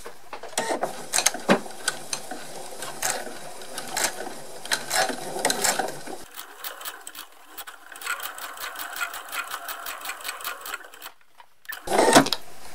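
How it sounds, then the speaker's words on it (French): A sewing machine with a zipper foot stitches a zipper along a faux leather pouch, its needle chattering in a fast steady rhythm. It pauses briefly, then runs on in further bursts, close and alone. "Je vais coudre ma fermeture éclair avec mon pied pour fermeture éclair tout le long"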